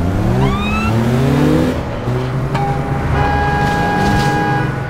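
Fast cars in the APB Reloaded video game: loud close engines revving and shifting up through the gears, with overlapping whine from several vehicles and a sustained high tone later, no talk.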